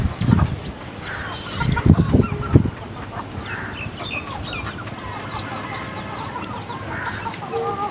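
Chickens cluck and squawk loudly in a quick burst at first, then softer clucking and calls from several birds continue around them.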